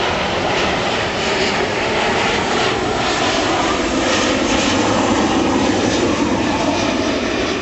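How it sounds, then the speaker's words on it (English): A fixed-wing aeroplane flies overhead above a tidal wetland drain near aquaculture ponds, its engine a loud, steady broadband roar that swells and holds throughout without pause. "We're being interrupted here by an aeroplane."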